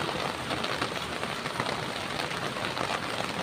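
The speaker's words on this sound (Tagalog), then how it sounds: "Ulan na po." Steady rain falls on plants in a garden, a dense, even hiss of drops that stays loud and close throughout with no voices.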